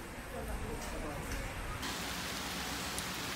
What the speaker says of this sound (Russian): И опять пошел дождик.